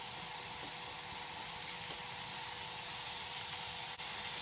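Steady broadband hiss and crackle of chicken frying in a hot pan over a full flame, continuous and even, with a faint low hum underneath and no talking.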